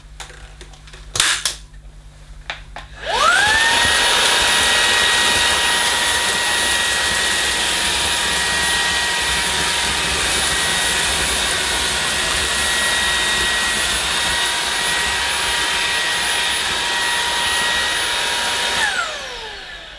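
A Halo Capsule bagged cordless vacuum cleaner on its medium setting with the brush roller off sucks up lentils, oats and bird seed: a few clicks, then the motor spins up to a steady loud whine with rattling grains before winding down.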